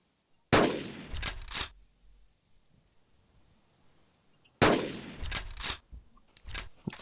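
Two loud gunshots in the video game Carnivores Triplex, each a sharp blast followed by rattling mechanical clicks and a ringing tail, about four seconds apart, with no talking.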